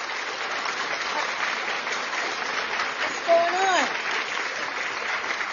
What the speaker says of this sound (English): A hand clap for Tim Apples